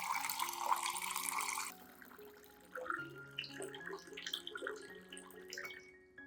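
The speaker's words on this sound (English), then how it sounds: "add 500 milliliters of clean, room temperature water to dilute the solution" Clean room-temperature water is poured into a coffee solution for orchids, a bright close splashing pour for under two seconds, followed by faint trickles and soft musical tones.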